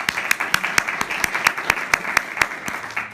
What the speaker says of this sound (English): I'm going to ask you to hold your applause